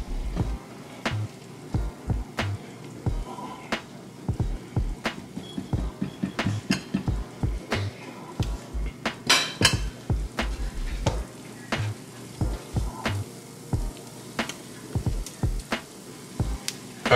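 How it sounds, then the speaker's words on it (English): Deer backstrap sizzles in butter in a pan as it is stirred, with steady frying hiss and frequent close scrapes and knocks of the utensil against the pan in an irregular rhythm, and no talking. "So I'm stirring this up. I'm letting all that flavor just intertwine with that butter."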